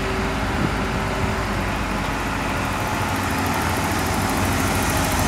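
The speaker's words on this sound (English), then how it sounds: "The engine's running, air conditioning's disconnected, no belt." A car engine idles steadily with the air conditioning disconnected and no belt fitted, a continuous low rumble with broadband hiss held at even loudness throughout.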